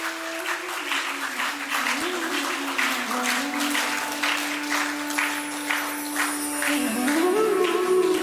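Audience applause for a guest speaker at a school lecture event, steady broadband clapping from a crowd throughout, with a faint tonal hum and some background sound underneath.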